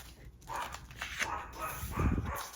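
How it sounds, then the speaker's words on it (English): A dog barks and whimpers faintly in the background of an indoor room, muffled and intermittent, with no clear speech over it. "Still my dog barking."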